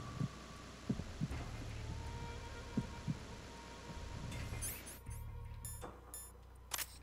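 Heartbeat effect in Metal Gear Solid 2, faint low thumps repeating roughly once a second over a steady hum, followed by brighter clicks and rustles later, with no talk.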